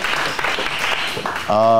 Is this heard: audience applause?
yes